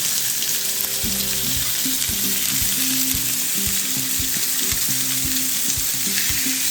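A burger patty fries in a pan with a steady, bright sizzle throughout, punctuated by intermittent low clunks and taps of a utensil against the cookware.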